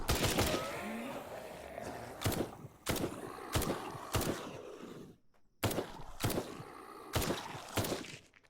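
Gunfire in Night of the Dead, hardcore mode: a slow string of sharp single shots at uneven intervals, fairly close, with faint background sound and a short quiet gap midway.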